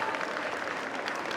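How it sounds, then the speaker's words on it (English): An audience at a cat show at Olympia, London, claps steadily, dense overlapping hand claps spread evenly across the short stretch, fairly loud with no pause. "Big round of applause for Phil and his Suffolk."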